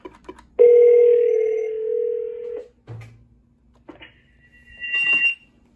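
A Cisco 7940 IP phone rings on an intercom call placed from a Nortel phone through a Cisco router: one sustained electronic ring tone lasting about two seconds, followed by short clicks and a brief higher chirp, heard nearby with no talking.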